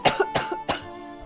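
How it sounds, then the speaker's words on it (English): A person coughs three times in quick succession, close and fairly loud, with a short throaty rasp after each burst and no speech around it. "I breathed in too deep and that made me cough."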